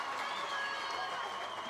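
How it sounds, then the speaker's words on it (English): At a schools rugby league match, a crowd cheers and applauds in a steady, fairly faint wash of noise from a distance. "You hear the crowd scream"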